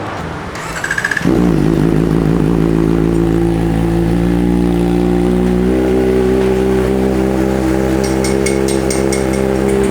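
Kawasaki ZX4RR inline-four fitted with a Villain Hyper-B 2 full-system muffler, firing up after a brief pause then holding a loud, steady high-pitched idle and rev with strong harmonic drone, close and unbroken throughout.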